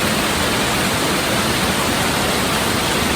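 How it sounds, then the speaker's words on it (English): Rushing water pours down Duchesnay Falls close by, a dense, steady roar that fills the whole moment without a break or any voice. "and I'm sitting halfway up a waterfall."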